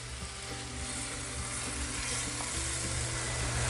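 Sauce boiling and sizzling hard in a Lodge Cook It All cast-iron wok, a dense, loud, unbroken hiss and bubbling close up with no talking.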